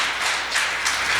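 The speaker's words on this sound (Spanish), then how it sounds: "Denle ofrenda de palmas al Señor." Church congregation applauding together during a worship service, a steady, dense wash of many hands clapping that swells slightly in waves, close and continuous with no talk.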